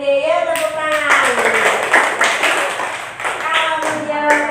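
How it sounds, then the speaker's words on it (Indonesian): Children clap for a classmate in an Indonesian school classroom, a short burst of mixed hand claps and taps with voices talking over it. "Iya, bagus sekali untuk India, tepuk tangan."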